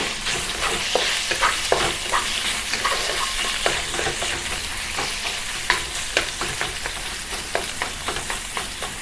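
Marinated beef sears in hot oil for beef udon, a loud close sizzle punctuated by frequent crackles and sharp pops as pieces are moved around the pan, with no talking.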